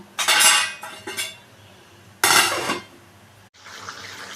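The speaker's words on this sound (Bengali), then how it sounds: "এবারে আমি এটাকে ঢেকে দেবো" Metal lid set down on a cooking pot of simmering kochur gathi (taro) and potatoes, giving a couple of bright clanks and a scrape, then a louder clatter, followed by quiet steady kitchen noise.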